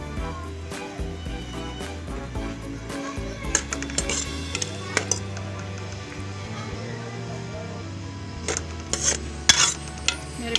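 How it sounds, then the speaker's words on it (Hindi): Onions go into hot oil in a pot for a village-style chicken feet and tinda fry, with repeated stirring clatter and scraping over a faint sizzle and a low steady background. "अब मैं प्याज शामिल कर रही हूँ।"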